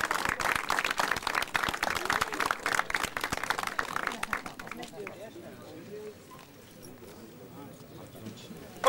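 Crowd applause and clapping for the winner at a 50cc junior motorcycle championship round in Caransebeș, loud and dense for about five seconds, then thinning into scattered claps and murmurs.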